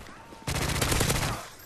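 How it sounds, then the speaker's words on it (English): Rapid gunfire crackles in a Modern Warfare 3 multiplayer match as a loud, dense burst of shots lasting about a second that then tapers away. "So I can hear loads of gunfire."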